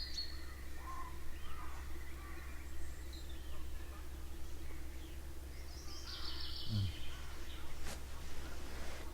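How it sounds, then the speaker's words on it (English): A chorus of birds sings beside a reservoir at a wild camping spot in Yorkshire, with scattered chirps and short calls fairly distant over a steady low hum, a brief nearer call midway. "Just a chorus of birds."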